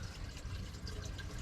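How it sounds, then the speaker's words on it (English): Water trickles and drips steadily from a freshly soaked plant pot, a continuous close wet patter with no talking. "It's dripping quite well."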